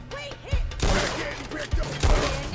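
A submachine gun fires in Fallout in quick bursts of sharp, booming shots, with heavy thuds standing out over a steady stream of game noise and sound effects.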